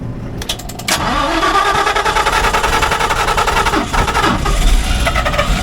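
A generator in Long Island City, just serviced in cold weather, cranks briefly and catches, settling into a loud, steady mid-pitched engine run close by with slight fluctuations.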